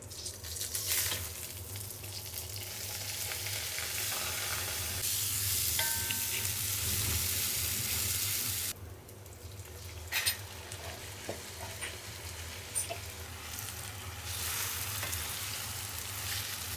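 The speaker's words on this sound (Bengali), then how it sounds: "এটা দিয়ে চাল ভাজবো" Rice frying in hot oil with cardamom for a quick chicken biryani, a loud continuous sizzle with occasional stirring scrapes, close by and nearly unbroken for the whole stretch.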